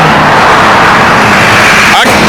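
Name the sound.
road traffic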